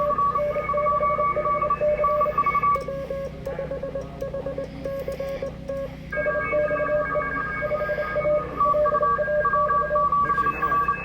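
Morse code CW signals received on amateur radio at a club Field Day station, steady keyed tones pulsing in rapid dots and dashes over a constant hiss and hum, sounding close and fairly loud throughout.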